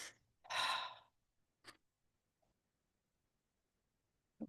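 Deep breathing exercise: a long, breathy exhale or sigh near the start, followed by a few shorter, fainter breaths spaced out over otherwise quiet seconds.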